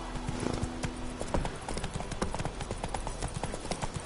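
Horse hooves clip-clopping at a steady, quick trot in The Witcher 3: Wild Hunt, crisp repeated strikes close by, with a brief low tone early on.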